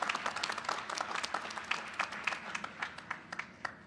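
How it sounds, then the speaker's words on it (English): Graduates at a Boston-area in-person spring commencement clap in a scattered, fairly light round of applause, individual hand claps audible through the room at moderate distance. "I think you should all give yourselves a round of applause"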